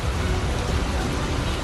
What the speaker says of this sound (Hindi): हैदराबाद के कई हिस्सों में भारी बारिश हुई।